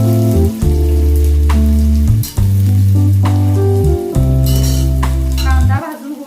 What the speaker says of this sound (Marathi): त्यामध्ये आपण कांदा टाकणार आहोत.